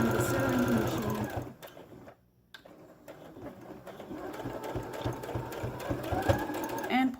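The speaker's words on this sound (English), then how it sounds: "Nice ASMR from the sewing machine." Domestic sewing machine running in steady bursts while top stitching a three-layer fabric face mask, close and clear, with a brief pause midway before the stitching resumes.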